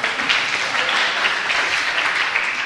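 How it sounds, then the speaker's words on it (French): Steady audience applause at an agile software conference talk, a continuous dense patter of many hands clapping at even strength throughout. "donc vous pouvez applaudir aussi si vous voulez."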